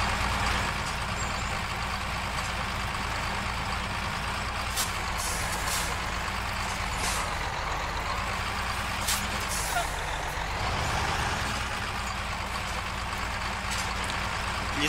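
Continuous heavy engine roar from a Ural Polyarnik truck on giant oversized tyres in Spintires, driving a forest road. It holds loud and steady, with slight pitch shifts and occasional clunks.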